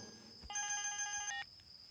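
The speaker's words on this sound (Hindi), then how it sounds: "फोन बज रहा है।" A telephone rings with a single bright electronic ring burst lasting under a second, loud and close, with quiet background before and after, in a Hindi-dubbed South Indian action film scene.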